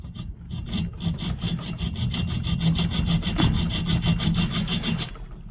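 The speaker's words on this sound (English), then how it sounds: "we're just going to take the hacksaw and make a vertical cut" A hacksaw rasps back and forth through a steel shotgun top lever spring in quick, steady strokes, a rough metallic grinding repeated about five times a second, close and continuous.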